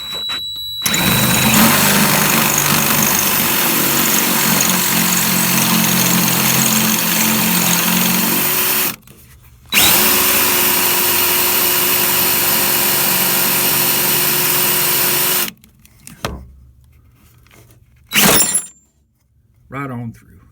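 A power drill bores at an angle through a broken, rusted bolt, a loud close motor whine held for long stretches, cutting out twice and ending in short bursts, with speech heard alongside.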